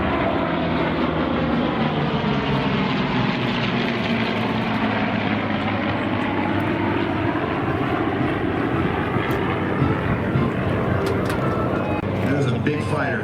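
A Lockheed P-38 Lightning, a twin-engine propeller fighter, drones loudly and continuously overhead at a Santa Maria, California airshow, while an announcer speaks over the engine roar.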